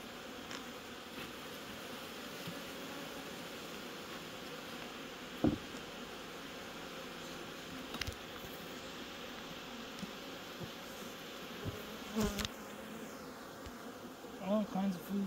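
Honeybees drone steadily around a double brood box hive, a dense continuous buzz close to the listener, broken by a few brief knocks and handling noises.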